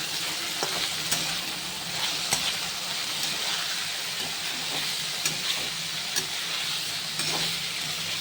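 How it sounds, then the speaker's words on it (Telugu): Capsicum, cabbage and other vegetables stirred in a hot pan for veg fried rice, giving a steady sizzle and hiss broken by light scraping knocks of the spoon. "ఇంకా క్యాప్సికమ్, ఇవన్నీ బాగా మిక్స్ అయ్యేలాగా కలుపుకుందాం."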